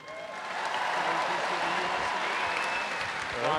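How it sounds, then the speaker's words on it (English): A large crowd applauds and cheers for a strongman deadlift attempt at a giant lifting show, a dense, sustained roar of clapping and shouts from a big arena audience, swelling again at the end. "Deserves a round of applause."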